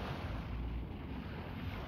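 Waves washing steadily onto Maraetai beach in Auckland, a soft continuous surf wash with wind rumbling against the microphone, faint and with no voices.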